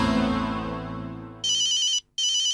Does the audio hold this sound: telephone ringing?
yes